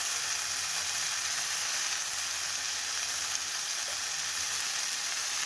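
Spice paste with turmeric and chilli powder frying in a pan, a steady, even sizzle that holds at the same level throughout with no talking.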